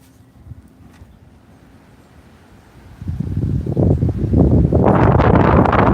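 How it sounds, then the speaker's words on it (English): Wind gusts building from a low rumble into loud, roaring buffeting against the microphone, growing stronger over the last few seconds. "Damn, it's getting windy."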